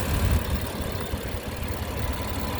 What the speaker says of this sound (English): that M-Power engine